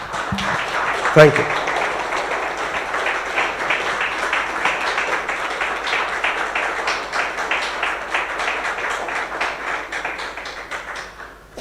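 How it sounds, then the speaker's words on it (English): An audience at a tactical training graduation ceremony keeps up sustained, dense clapping that swells and fades across the stretch, with a brief spoken voice near the start. "Keep those applause going, man."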